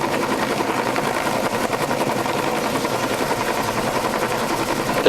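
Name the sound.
helicopter hovering with a cable during bridge demolition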